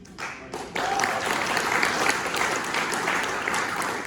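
An audience applauds at a 2022 North Carolina 9th District convention for judicial candidates. A brief muffled start gives way to a full, steady wash of clapping that carries on to the end.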